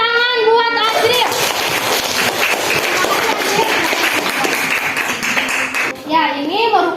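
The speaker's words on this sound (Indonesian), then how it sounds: "Tepuk tangan buat Ajril." Classroom of children clapping for a student's correct answer about a rice-field food chain, a brisk burst of many hands, with a voice before and speech returning after.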